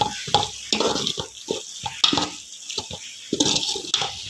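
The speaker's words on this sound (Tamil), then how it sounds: "இது எல்லாத்தையுமே நல்லா கிளறி விட்டுக்கலாம்" Masala being stirred in a pan for a Chettinad-style egg gravy makes repeated scraping and sputtering bursts in an uneven rhythm, loud and close.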